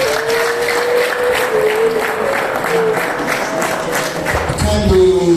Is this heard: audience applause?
yes